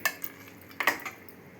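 Milk mixture is stirred in a cooking pot with a spoon, giving a few soft scrapes and faint metallic clinks at close range in a quiet kitchen.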